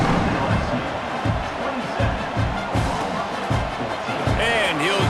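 Stadium crowd roaring and cheering in EA Sports College Football 26 ahead of a kickoff at an LSU game, a steady dense wash of noise with a whistle-like tone near the end.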